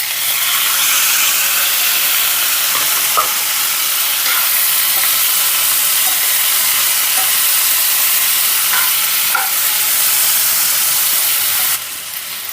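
Three medium-sized tomatoes, cut and frying in a pan for chutney, hiss in a loud, continuous, close sizzle with faint stirring clicks. The sizzle drops noticeably near the end.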